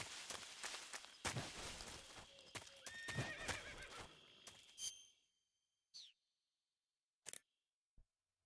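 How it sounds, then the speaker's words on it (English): In the video game Metal Gear, a horse whinnies amid clopping hooves and rustling, then the noise cuts off, leaving a few short, sharp sounds scattered over near silence. "You just heard a horse?"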